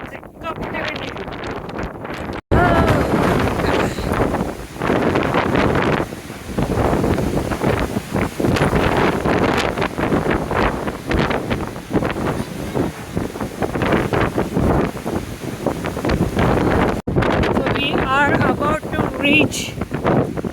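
Strong coastal wind at Point Reyes, California, buffets the microphone in loud, continuous roaring gusts with brief drops, voices occasionally audible beneath the rush.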